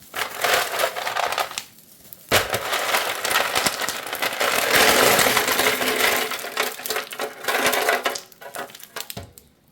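Ice cubes clatter and crunch loudly into a container of fermenting papaya in several bursts, with a short pause near the start and rattling settling toward the end.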